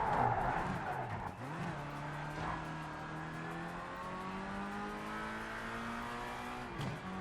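Formula R race car in the Project CARS 3 racing game sliding through a corner, its engine whine rising steadily in pitch over tire scrub and skidding noise, loud and continuous.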